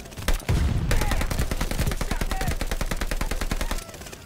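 Dense, rapid automatic gunfire from a Call of Duty Vanguard match in Armageddon mode on the Gavutu map, loud and continuous bursts with overlapping shots and brief clatter throughout.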